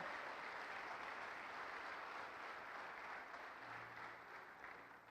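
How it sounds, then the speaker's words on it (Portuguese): A church congregation applauds, a dense sustained wash of many hands clapping at moderate distance, slowly fading slightly over several seconds, with no speech. "Você pode dar uma salva de palmas ao Senhor?"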